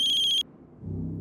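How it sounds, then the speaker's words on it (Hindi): A landline telephone rings with a bright, trilling electronic tone, then cuts off abruptly, leaving a quiet low hum. "सनी के राजकोट वाले घर की लैंडलाइन से फोन है।"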